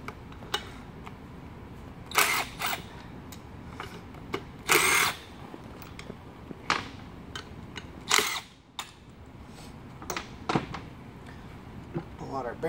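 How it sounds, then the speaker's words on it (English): A cordless power drill removes cover plate bolts on a Bell & Gossett 1510 pump, with short whirring bursts separated by pauses, clicks and handling clatter, loud and close. "So I'm gonna remove the cover plate to get to that. I'm gonna flip it over. I'm gonna remove these four bolts."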